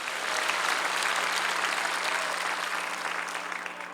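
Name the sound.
applause at a church prayer rally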